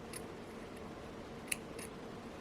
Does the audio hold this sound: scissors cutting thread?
yes